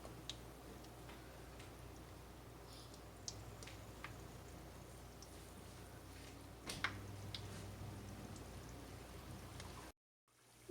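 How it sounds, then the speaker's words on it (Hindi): Minced meat samosas fry in oil over a medium flame, giving a steady soft sizzle with faint ticking pops, before the sound cuts off abruptly near the end. "समोसे तैयार कर लिए, आइए हम इनको फ्राई करते हैं।"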